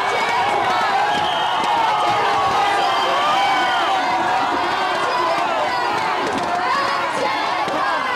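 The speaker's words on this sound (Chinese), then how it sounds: "所有人都从椅子跳了起来，振臂欢呼" A crowd of baseball fans in a public square in front of the Changhua art museum erupts in sustained cheering and shouting after Taiwan's championship win over Japan, a dense, loud, continuous roar of many voices.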